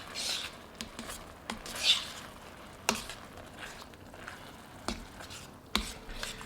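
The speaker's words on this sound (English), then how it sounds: "Stir this in." Parmesan is stirred into a creamy garlic butter sauce with shrimp in a skillet. Quiet scraping and soft utensil taps against the pan come at irregular intervals over a faint simmer.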